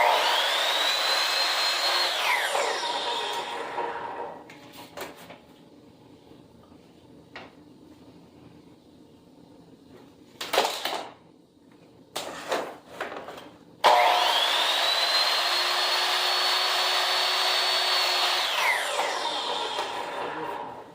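A power saw nipping the factory end off a length of wooden trim, two loud sustained whining cuts separated by a quieter stretch with a few knocks and handling clatters of the wood.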